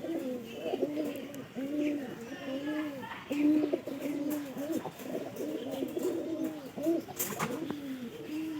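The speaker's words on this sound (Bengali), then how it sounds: "বাদল কাকার মানে কয় জোড়া কবুতরের বাচ্চা ফুটছে" Pigeons coo steadily in a loft where several pairs are raising newly hatched chicks, overlapping rounded bubbling calls repeating close by with faint background noise.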